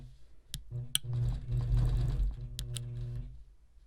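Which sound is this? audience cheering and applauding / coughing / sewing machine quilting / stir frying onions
sewing machine quilting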